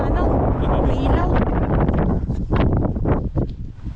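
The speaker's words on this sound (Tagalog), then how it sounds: "Ah, lakas ng hangin." Strong wind on the Mt. Pulag mountain trail roars and buffets the microphone in loud, uneven gusts, with a person speaking underneath.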